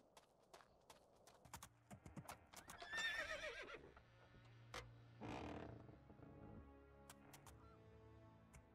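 A horse whinnies loudly in the Two Worlds video game, mixed with clip-clopping hooves and sharp ticking game sounds.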